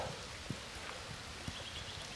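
Chilly rain falls in a steady, faint hiss, with a few soft drops tapping a nearby surface now and then.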